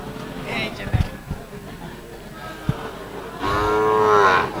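A Sahiwal bull calf moos loudly and close by near the end, after a few thumps and faint background voices, at a cattle market in Aftabganj, Dinajpur.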